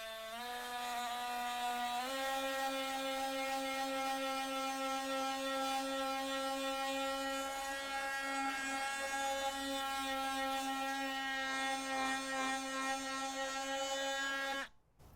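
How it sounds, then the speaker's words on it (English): A Dewalt power sander runs steadily on stained cedar wood, a constant high-pitched whine with rich harmonics that steps up in pitch early on and stays loud and even until cutting off at the end. "So let's just sand the cedar because it's got some stain on it."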